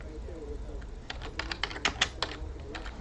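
Quick bursts of keyboard typing, a rapid flurry of clicks in the second half, with a faint murmur of voices underneath.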